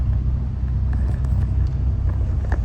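Steady low rumble of a car driving, heard from inside the cabin, constant and close with faint higher road noise on top.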